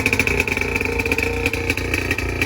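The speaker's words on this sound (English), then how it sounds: "Michael, give me a few revs." 2021 Dodge Challenger Scat Pack with a muffler delete, revving in a loud, close, raspy rhythm with repeated pulses of throttle over a deep idle, with no talk.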